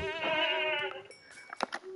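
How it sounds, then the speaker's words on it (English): A goat in Minecraft gives a wavering bleat lasting about a second, followed by soft clicks and small game sounds. "I don't like the goats, so I just kill them."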